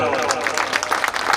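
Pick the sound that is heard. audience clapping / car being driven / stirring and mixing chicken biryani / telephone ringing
audience clapping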